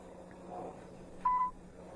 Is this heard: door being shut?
no